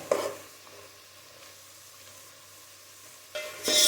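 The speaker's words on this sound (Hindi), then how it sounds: "यहाँ पे सब्जियों को भूनते हुए मुझे 2 मिनट हो गए हैं" Vegetables frying in a pan for shahi pulao, a faint low sizzle that rises into louder stirring noises at the start and end.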